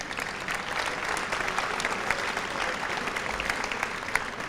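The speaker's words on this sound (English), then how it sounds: "Give them a round of applause." A school audience at a 1993 senior academic recognition ceremony applauds steadily, a dense patter of many hands clapping in a hall at moderate volume, without voices over it.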